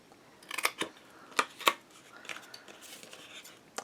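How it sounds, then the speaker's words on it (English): Scissors snip paper squares for a Stamperia craft folio pocket, a handful of crisp, close, quiet cuts in an irregular rhythm with soft paper rustling between them. "Let's cut out those squares."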